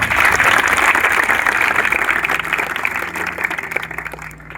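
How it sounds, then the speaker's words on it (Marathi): Applause from an audience of students and guests at a Sengaon police station event for Maharashtra Police anniversary, loud sustained clapping that gradually fades over a few seconds. "टाळ्या वाजून सगळ्यांनी आपण स्वागत करूया"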